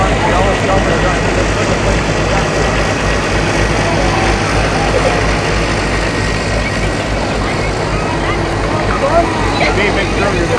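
An Allis-Chalmers tractor engine idles and rumbles steadily at a small-town festival parade, a continuous low drone that runs loud and close throughout, with an announcer's voice talking over it.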